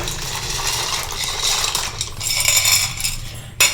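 Dry pasta clatters and rattles into a metal pot of boiling water in a steady, busy stream, ending with a sharper knock.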